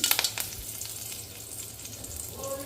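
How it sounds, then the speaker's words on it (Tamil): Hot oil sizzles and crackles steadily, with a quick cluster of sharp pops at the start as mustard seeds hit the pan, then a continuous hiss. "எண்ணெய் காஞ்ச உடனே கடுகு சேர்த்திக்கலாம்"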